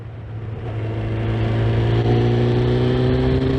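A Honda Fireblade CBR900RR motorcycle engine drones steadily while the bike is ridden. The note rises gently and grows louder, with wind rush over the top.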